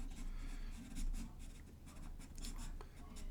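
Charcoal scratching across paper while sketching ducks, a steady run of dry, rasping strokes that pulse in short bursts close by, with no voices.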